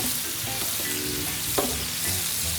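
Vegetables sizzle steadily in a hot pan with a splash of white wine, a continuous broad frying hiss with occasional stirring clatter and one sharp knock near the middle.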